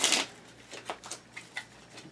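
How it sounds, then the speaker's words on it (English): City cards from the Pandemic board game being shuffled by hand, a loud riffling burst at first, then a string of softer papery flicks and taps at an uneven pace, close and without talk. "you'll take the cards, the city cards, and shuffle them"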